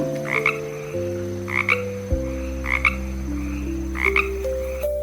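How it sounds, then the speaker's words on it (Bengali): A frog croaks in four short, evenly spaced calls over a steady background of sustained musical tones. "উমতে ব্যাং, ব্যাং ডাকে"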